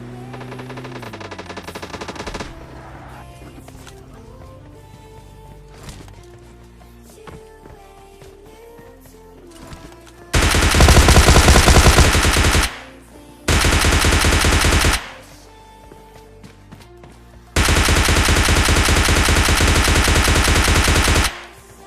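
Gunfire in a video game: long bursts of loud automatic fire come in three blasts in the second half, after quieter game sounds and scattered clicks.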